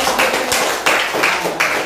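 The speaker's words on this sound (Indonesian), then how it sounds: "Tepuk tangan dulu Pak Angga" Applause breaks out in a classroom, a few pairs of hands clapping together in an uneven burst for a student, close and fairly loud, with no talk over it.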